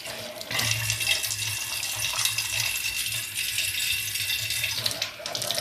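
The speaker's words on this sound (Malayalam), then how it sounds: "ഇനി ഞാനിതിൽ വെള്ളം ഒഴിച്ച് കാണിച്ചു തരാം." Water is poured into a kitchen sink gadget, making a steady, close rushing splash that starts half a second in and runs evenly for about four seconds before tapering off.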